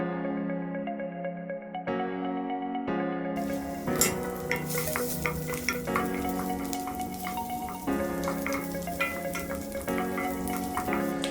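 Ginger and garlic sauté in a pan for chicken curry, a steady close sizzle with repeated scraping stirs and clicks of a spoon over a constant hum, with no talking.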